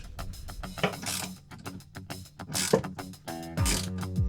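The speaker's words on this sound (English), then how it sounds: "I've never been able to successfully have long enough arms to tighten and hold the nut at the same time while tightening up a stanchion" A nut being tightened on a sailboat stanchion, giving close, repeated ratcheting clicks and creaky mechanical turns in short uneven bursts, with no talk.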